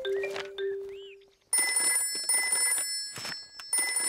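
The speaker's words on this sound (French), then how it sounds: "Oh, c'est le téléphone pour les cas d'urgence." Emergency telephone in a Peppa Pig cartoon rings with a loud, steady electronic trill in repeated bursts, after a brief stretch of light sounds before it starts.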